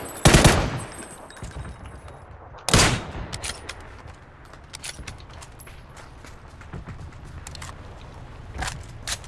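Video game gunfire from other players: sharp loud bursts near the start and around three seconds, then scattered distant shots and rapid pops over a low ambient rumble.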